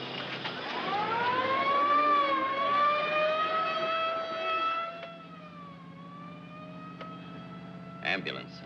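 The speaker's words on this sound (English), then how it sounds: "Ambulance, huh?" Wailing ambulance siren in an old 1940 film scene, a loud rising-and-falling tone that holds for several seconds then fades lower under the scene, with a brief sharp noise near the end.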